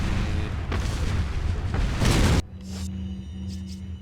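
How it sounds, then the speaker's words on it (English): A grenade in Resident Evil 4 detonates with a heavy, rumbling blast that roars for about two seconds before dropping to a quiet game hum with faint after-effects. "let's do a regular grenade."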